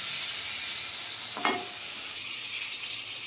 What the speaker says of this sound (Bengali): এখানে আমি উচ্ছে ভাজাটাও করতে দিয়ে দিয়েছি